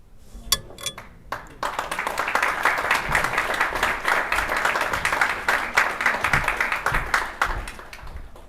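An audience at a university sports awards ceremony breaks into steady, sustained applause after a brief pause, many hands clapping densely and evenly for several seconds, fairly close.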